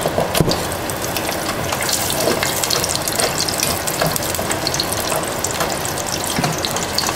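Haitian patties sizzling in hot frying oil, a steady bright hiss and crackle with scattered pops that carries on evenly throughout with no one speaking.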